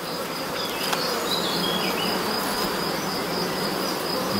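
Defensive black honey bees buzz densely at an open hive during a colony inspection, a close, continuous swarm hum with individual bees whining past.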